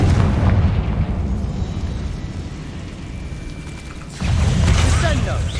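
A loud magical fire explosion from the Confringo spell in Hogwarts Legacy booms and rumbles, then a second fiery burst crackles in near the end, with a voice heard over the blasts.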